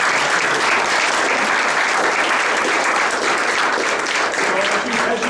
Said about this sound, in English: a round of applause is in order for the institution here